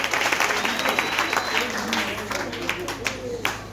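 A congregation at a religious gathering breaks into loud, sustained applause and clapping that fills the room, with a speaker's voice carrying over the crowd.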